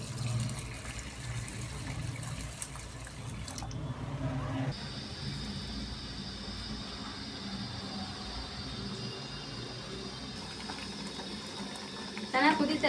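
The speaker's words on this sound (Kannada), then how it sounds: "4 ಗ್ಲಾಸ್ ನೀರು ಹಾಕೋತಾ ಇದ್ದೀನಿ." Four glasses of water go into a cooking pot of vegetables, tomato, salt and turmeric for bisibele bath, a fairly quiet, continuous pour and splash.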